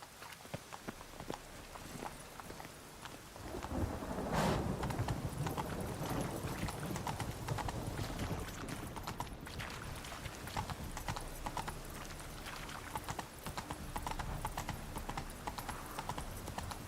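Roach the horse trotting in The Witcher 3, hooves clip-clopping in a steady rhythm that turns louder and busier after a quiet start, continuing close up with no talk.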